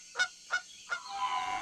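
A goose honks three times in quick, evenly spaced bursts, loud and near, followed by a brief wash of nasal noise.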